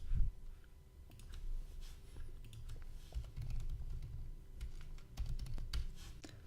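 Keys clatter on a computer keyboard in quick, uneven bursts of taps, soft and close, while someone types a search for teacher t-shirts; no speech.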